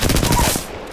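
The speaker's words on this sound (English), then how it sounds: "these guys keep shooting at me" Gunfire in Apex Legends, a short loud burst of rapid automatic shots, close and punchy, tapering off within a second.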